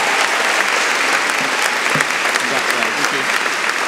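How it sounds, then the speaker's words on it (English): Audience at a Christmas carol concert for Sarcoma UK breaking into a loud, sustained round of applause, with a faint voice under the clapping. "I think that deserves a round of applause."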